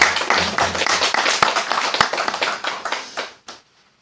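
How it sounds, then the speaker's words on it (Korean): A church congregation in a small basement church claps their hands in worship, a dense burst of many hands that thins out and fades to scattered claps before stopping near the end. "우리 한번 박수로 하나님께 영광을 돌리겠습니다."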